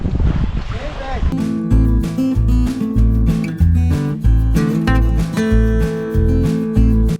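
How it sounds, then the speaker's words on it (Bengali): A motorized trawler ferry crossing the Brahmaputra river from a char ghat, its engine throbbing in a loud, close, steady rhythmic chug under water and wind noise, with a voice speaking over it. "রৌমারির বলদমারা চর খেয়াঘাট থেকে ব্রহ্মপুত্র নদীর বুক চিরে বয়ে চলছে আমাদের ট্রলার"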